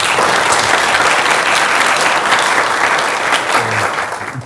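Applause for team leaders at a company event: a large audience claps in a dense, steady roar for a few seconds, tapering slightly at the end.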